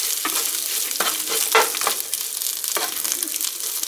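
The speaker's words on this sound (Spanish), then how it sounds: "Y también vamos a poner las cabezas del camarón." Dried shrimp heads fry in a pan over low heat, a close, steady sizzle broken by a few stirring scrapes, no talk.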